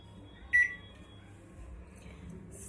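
A microwave oven set to high power roasts broken wheat dalia spread across a plate, opening with a brief loud beep from the control panel, followed by a low steady hum of the oven running.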